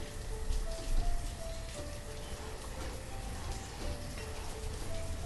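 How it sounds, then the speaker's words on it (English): Heavy downpour in the Banished video game, a steady, dense wash of rain with scattered drop patter that runs continuously throughout. "we start off the entire day with, like, just downpour rain"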